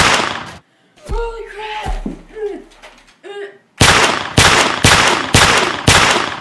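Revolver shots boom in a game, first a couple of isolated blasts around exclamations and then a loud, evenly spaced volley of about six sharp gunshots in a row, with a voice talking between the early shots.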